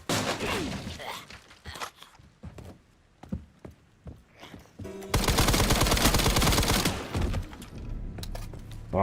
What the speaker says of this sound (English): the shooting is fucking satisfying, man